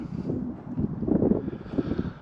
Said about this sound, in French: Alors là il y a du vent